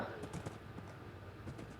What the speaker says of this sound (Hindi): देखो मेरा घोड़ा।